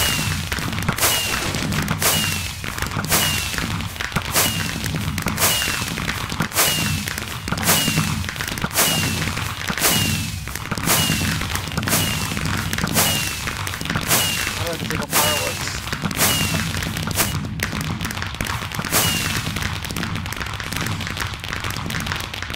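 Repeated sharp bursts and pops of video game fireworks crackle in a fast, steady rhythm for over twenty seconds, loud and dense, like a continuous string of fireworks.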